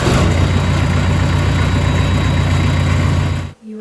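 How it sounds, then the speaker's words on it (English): A Case skid loader without a cab runs its engine loudly and close at a steady idle with a deep, rumbling drone, then cuts out abruptly near the end. "This one you thought was your case skid loader without the cab."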